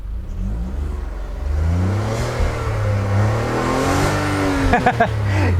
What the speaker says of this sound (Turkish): Ses böyle basınca hemen buradan geliyor. Hatta şöyle göstereyim size. Şöyle gaz vereyim.